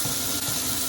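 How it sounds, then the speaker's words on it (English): Warm water running steadily from a tap, a continuous close rushing and splashing with no pauses or voices. "Okay, warm water."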